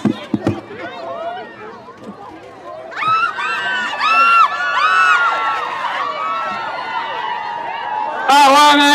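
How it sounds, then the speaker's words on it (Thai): Crowd at a by-election campaign rally in Rayong, Thailand, cheering and clapping over loud amplified voices and shouting, a dense, sustained roar of many people with a sharp burst of noise near the end. "ขอเสียงปรบมือให้คุณโยพงศธรหน่อย"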